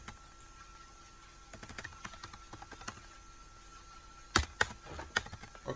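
Computer keyboard keys tapped while writing a JavaScript script, quiet scattered clicks that build into a sharper, louder burst of keystrokes near the end, close up with no talking.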